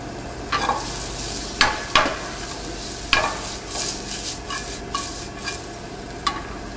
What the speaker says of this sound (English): Now I'm dry sauteing these, which means my pan is very, very dry.